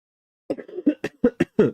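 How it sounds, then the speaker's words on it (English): A quick burst of about seven short, dry coughs in rapid succession, close and fairly loud, after a moment of silence. "I've had this cough for like 10 days now."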